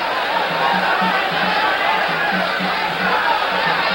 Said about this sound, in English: The crowd responds to Escalera's resurgence in the last 2 rounds with cheering, concerted cheering.